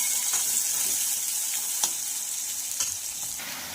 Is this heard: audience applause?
no